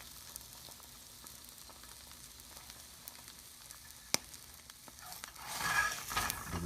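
A sunny-side egg frying in a pan, a quiet low sizzle with occasional small ticks and one sharp clink, then louder spatula scraping and frying as the egg is flipped over.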